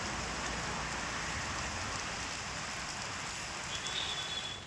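Heavy monsoon rain pours steadily in Mumbai as a dense, constant hiss of downpour, fairly close and unbroken, with no voices heard.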